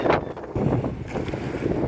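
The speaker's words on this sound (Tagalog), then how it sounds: "lakas ng hangin, no?" Strong wind roars and buffets the microphone in a steady low rush at the seaside while fishing, with no one speaking.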